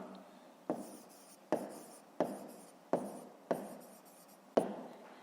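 A pen writes out a fifth-grade math solution in a notebook: six quiet, evenly spaced scratching strokes, each starting with a sharp touch of the tip and trailing off, with no talking.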